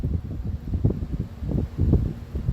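Low rumbling wind gusting across an open outdoor parking lot, buffeting the microphone with uneven bursts and a faint steady hiss above.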